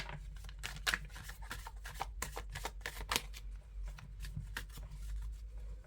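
Oracle cards being laid out and shuffled on a table, a steady stream of soft card slaps and slides close by over a low hum, with no speech.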